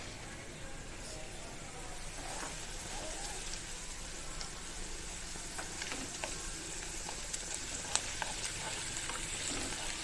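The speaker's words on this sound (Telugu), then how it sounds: "వేసి ఇలా కలుపుకొని మంచిగా ఫ్రై చేసుకోవాలి." Potato curry with ginger garlic paste fries quietly in a pan, giving a faint, steady sizzle with scattered small pops and crackles throughout.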